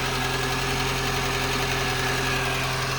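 Peugeot 306 1.4 petrol engine idling, a steady even hum with faint mechanical ticking, close and constant throughout.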